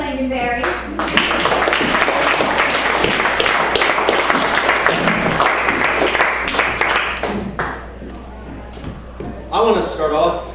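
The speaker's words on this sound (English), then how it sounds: "How about you applaud, you Lincolnberries?" Audience applause at a live comedy stage show, a dense burst of clapping that swells and then fades, with a voice speaking before and after it.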